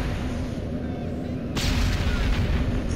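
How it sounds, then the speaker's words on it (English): Missile explosions in the video game Destroy All Humans!, a dense barrage of booming blasts that swells louder partway through, continuous and close with no gaps. "These missiles are no joke."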